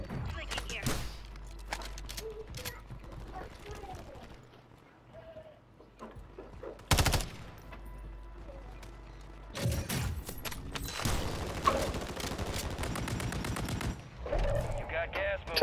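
Video game gunfire in a multiplayer shooter: scattered bursts of shots, near and loud at times, with quieter stretches in between, while players talk over the action.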